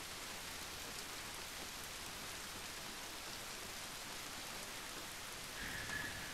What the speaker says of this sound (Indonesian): langsung hujan guys.